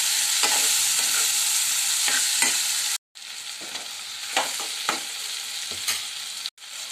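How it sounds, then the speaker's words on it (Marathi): A spoon scrapes and stirs through sizzling fried elephant foot yam (suran) and masala in a pan, with repeated clacks against the metal over a constant frying hiss. "आता हे पण मसाल्यामध्ये आपल्याला मिक्स करून घ्यायचं आहे"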